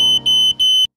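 Smoke detector alarm sounding three loud, piercing beeps in quick succession, each with a short gap, then cutting off to silence.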